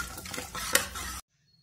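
Spices tempered in hot oil in a pan for curry, a brief close sizzling and stirring clatter for about a second before cutting to near silence.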